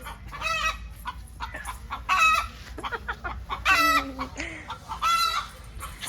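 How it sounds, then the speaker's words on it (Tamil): Chickens cluck and call in a garden in Pondicherry, with repeated rooster-like crowing bursts, close and fairly loud over a low background. "காலையில 6 மணி தானே கோழி கூவும்"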